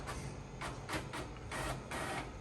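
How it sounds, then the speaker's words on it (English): A workplace printer runs quietly, with a soft steady whir broken by several short rhythmic feed or print-head passes. "I really enjoy using the printer at work."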